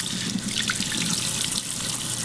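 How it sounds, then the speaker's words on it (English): Tap water runs steadily over a cauliflower in a kitchen sink as it is rinsed, a continuous close splashing hiss with no voices. "Now we want to give the cauliflower a thorough rinse."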